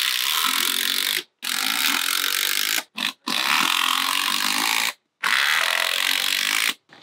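A power drill or impact driver drives screws into a deck board during deck building, sounding as loud ratcheting bursts, four runs separated by short pauses.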